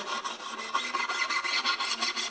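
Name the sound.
rubbing viola fingerboard with steel wool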